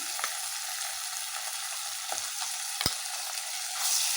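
Ginger garlic paste with mint and coriander frying in a pan for a home-style chicken biryani, giving a steady close sizzle with a few sharp stirring clinks.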